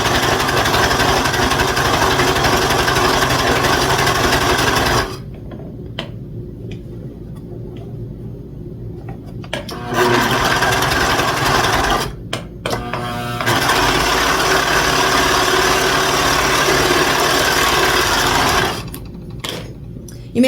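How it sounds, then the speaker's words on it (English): A sewing machine stitching up the long edges of a quilted travel bag, running in long continuous whirring bursts with short pauses between them, close and loud with no talk. "we're going to sew all the way up to the top."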